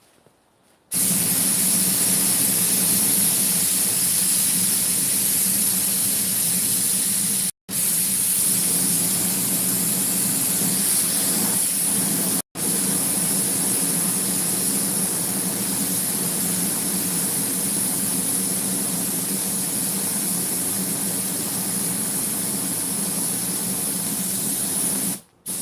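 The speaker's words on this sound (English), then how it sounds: "pump a little more air into there," Air pumped into a charcoal briquette fire produces a loud, steady rushing hiss that runs almost unbroken, pausing twice very briefly, with no voices.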